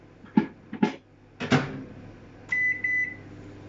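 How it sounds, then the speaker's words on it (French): A microwave oven set to melt butter in a jug: door and button clicks, a few beeps, then the hum of the oven starting, close and clear with no talking. "je vais venir faire fondre 1 minute au micro-ondes"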